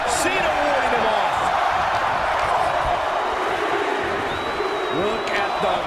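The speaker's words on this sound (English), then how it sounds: "Listen to this crowd count the next one in." Wrestling arena crowd at a WWE Royal Rumble event counting along, a loud sustained roar of many voices filling the hall, with a commentator talking over it.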